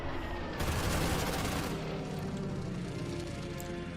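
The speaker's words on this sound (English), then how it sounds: "Oh, more artillery, nice." Artillery fire in the World War II strategy game Order of Battle, with a heavy booming barrage that rumbles and crackles, loud and close, fading into a long roaring tail, with no talk.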